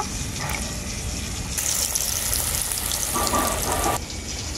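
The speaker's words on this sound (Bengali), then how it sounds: "মশলাটাকে আমি জল দিয়ে ভিজিয়ে নেব।" Water pours in a steady rushing stream onto ground cumin, turmeric and Kashmiri chilli powder, loud and close for a few seconds, with no voices.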